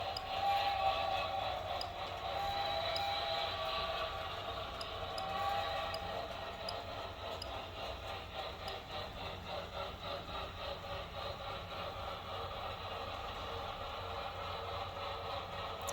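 A model train rolls along the track of a large indoor room-sized layout, a faint steady hum and rhythmic clicking continuing for many seconds with small electronic throttle beeps, no voices.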